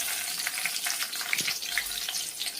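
Green chilies sizzle in hot ghee: steady frying sizzle with scattered crackles and small pops, close by and fairly quiet, with no voices.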